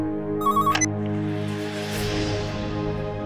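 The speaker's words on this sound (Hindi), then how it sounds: "इतनी रात को किसका फोन हो सकता है?" A telephone rings at night, a brief electronic trill cutting over a steady droning background tone, heard once near the start before the hum carries on.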